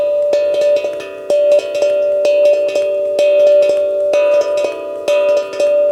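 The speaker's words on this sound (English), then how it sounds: "This is how the left hand plays without the right one." A tongue drum struck with the left hand alone, ringing out a steady, repeating pattern of bright metallic tones that sustain and overlap, loud and close with no voices.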